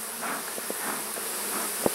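Honey bees buzzing around an open, thriving hive as honey supers are added, a steady close-up drone with individual bees zipping past the listener and a faint tap or two.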